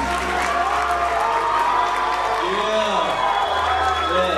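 Pageant audience at Miss Asia Sacramento 2010 erupting in steady clapping, cheers and shrill screams, loud and continuous throughout, with a voice calling out briefly.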